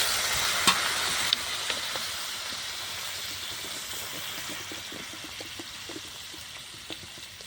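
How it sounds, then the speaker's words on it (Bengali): Water added to potatoes frying in a pan on a clay stove, giving a continuous hissing sizzle with scattered small pops and stirring clicks, close and moderately quiet, no voices. "এবার পানিটা দিয়ে দেবো।"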